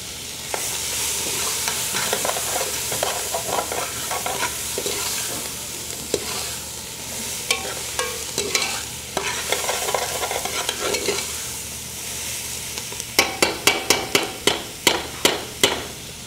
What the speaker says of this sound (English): So we're going to sweat this for a couple minutes, get all the goodness out of it, stir it every once in a while.